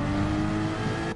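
In the Gran Turismo racing game, a Porsche race car engine revs steadily and loudly, a continuous buzzing drone with shifting tone that carries through to the end, with no talk over it.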